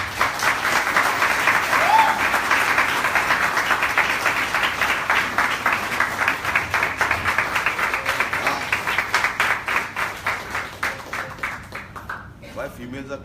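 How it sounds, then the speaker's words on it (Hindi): An audience at a church talk applauds, a dense, sustained wash of clapping that holds strong and then gradually thins into scattered claps before fading out. "Thank you for the applause."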